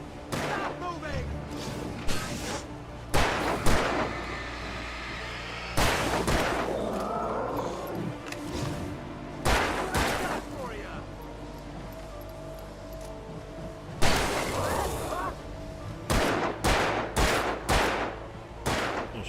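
Gunfire in the Alan Wake video game: repeated sharp bursts and clusters of shots at irregular intervals, loud and close, with a voice talking between them.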